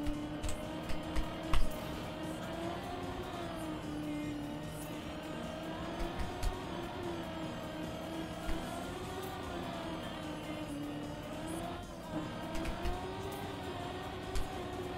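A racing car engine in the video game Trackmania drones continuously, its pitch rising and falling with acceleration and shifts, with occasional sharp clicks over the steady roar.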